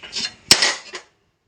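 A metal kadai is handled on a gas stove, giving a couple of close, sharp clanks and scrapes in quick succession before going quiet.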